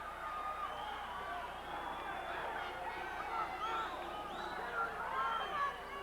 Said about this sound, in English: Now the crowd is standing in the bleacher sections of this arena.